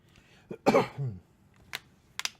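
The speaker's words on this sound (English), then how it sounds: "Sorry about the coughing." A person coughs a few times close by, with a heavy burst near the start followed by a couple of short, sharp coughs after a pause, in an otherwise quiet indoor space.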